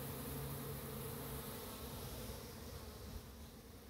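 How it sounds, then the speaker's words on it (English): Honey bees buzz in a dense, continuous drone, close and steady throughout with no voices. "Honey bees."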